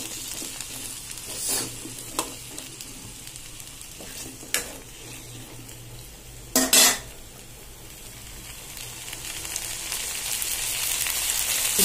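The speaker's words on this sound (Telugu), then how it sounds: "ఈ కూరగాయలన్నీ వేసేసుకొని ఇలా కలుపుకోవాలి" Vegetables for Nellore-style sambar are stirred in a pot with a metal spoon, faint sizzling under sharp scraping clinks and a couple of louder clatters of utensil on metal, recorded close.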